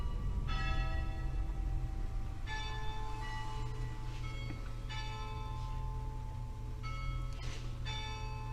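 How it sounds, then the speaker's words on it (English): A bell rings out in repeated, evenly spaced strikes with long ringing tails, heard over a low, constant rumble of traffic. "Oh, there goes that bell."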